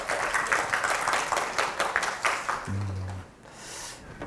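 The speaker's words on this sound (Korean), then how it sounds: "박수로 맞이해 주세요." Audience applause welcoming a lecturer at a science talk event in Daejeon, a moderate patter of clapping in a hall that fades out over a few seconds, heard at middle distance.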